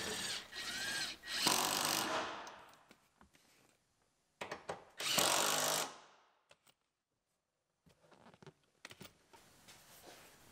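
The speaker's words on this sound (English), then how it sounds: "And we'll bolt it back in." A power tool drives bolts back into a part on a 2016 GMC Terrain Denali, with two loud whirring bursts separated by gaps and followed by softer clicks and handling noises nearby.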